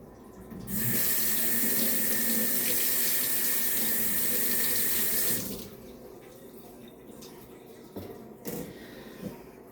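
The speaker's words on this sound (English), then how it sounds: "Now I'm going to rinse these off." A kitchen tap runs full for about five seconds as something is rinsed under it, a loud steady rush of water that then stops, leaving quiet room sound and a few small knocks.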